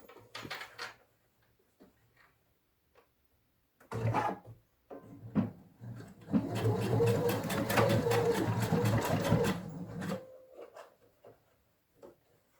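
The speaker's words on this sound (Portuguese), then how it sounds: "eu vou passar uma costura pra gente fechar essa argolinha" A sewing machine stitches a seam to close a small fabric loop on a cosmetic case, running steadily for about four seconds after a few brief starts, with rustling and handling noises around it.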